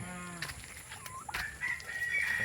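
A rooster crows at a distance over a steady outdoor background, with a few soft clucks and bird calls mixed in.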